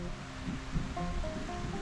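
A river flows steadily in the open countryside as a soft, continuous broadband rush at low level, with faint birdsong overhead.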